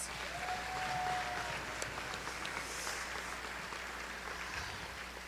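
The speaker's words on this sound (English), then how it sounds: "Let's give ourselves a round of applause" A distant crowd applauds at a high school graduation ceremony, a steady, diffuse wash of clapping that holds evenly throughout and fades slightly at the end.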